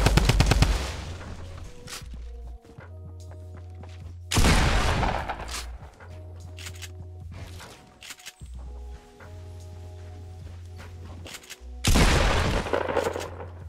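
Rapid bursts of gunfire ring out in the video game Fortnite, dense volleys of sharp shots at the start, again around four seconds and near the end, separated by quieter stretches with a low steady tone.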